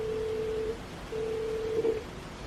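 A Google Home Mini places a call to an iPhone, producing a steady electronic ringback tone in two long pulses separated by a short gap, clear and fairly loud with no talking.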